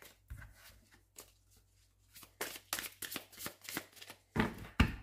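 A deck of oracle cards, from the Petit Enchanteur oracle, being shuffled and cut by hand: soft riffling flutters, taps and slaps of cards, quiet and close, in irregular bursts.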